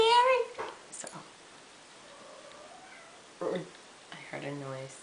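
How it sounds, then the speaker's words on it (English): A cat meows clearly at the start, followed by further meow-like calls later, with people talking quietly in between. "I heard a noise, I think it's a cat."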